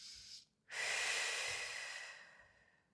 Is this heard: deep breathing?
yes